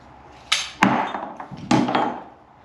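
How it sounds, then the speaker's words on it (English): A pipe cutter worked on a pipe while fitting out a fishing kayak, making a few sharp metallic clicks and scraping bursts close by. "pipe cutter down on it like that and start spinning"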